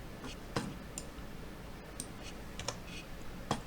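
Key presses for a Ctrl R shortcut in Blender on a computer keyboard: a few separate light clicks, spread out and close by, with no talking.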